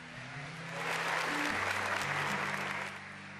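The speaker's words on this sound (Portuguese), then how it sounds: "Dá uma salva de palmas para a palavra de Deus." Congregation applauding during a church service, a steady round of clapping that swells and then tapers, with low organ or keyboard tones sustained underneath.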